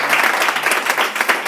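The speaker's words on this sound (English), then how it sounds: "You can clap." An audience at a street show claps and applauds, a dense burst of many hands close by, filling the whole short moment.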